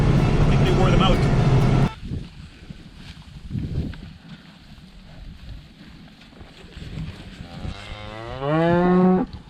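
A cow lets out a long, loud moo near the end, its pitch rising and falling, after some rustling and faint background noise.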